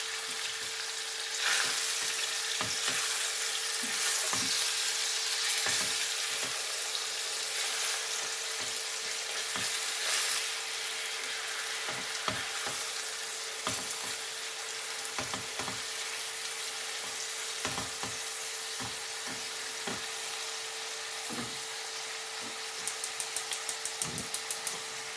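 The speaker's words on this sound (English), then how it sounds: "When chicken is frying nicely, start to mix." Chicken sizzles steadily as it fries in a pan with pepper and basil, a dense hiss running throughout, with repeated scrapes and clatter from stirring near the end.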